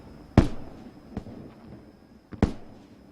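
Summer fireworks in Japan: two sharp, loud bangs about two seconds apart, with a fainter pop between them over a quiet background.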